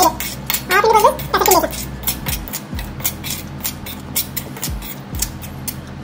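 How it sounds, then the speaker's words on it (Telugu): A spoon clatters and scrapes in a bowl while salt and turmeric are mixed for a mung bean pickle, producing busy close clinks and scraping strokes, with a brief voice-like murmur partway through. "మూడు బాగా కలుపుకోవాలి"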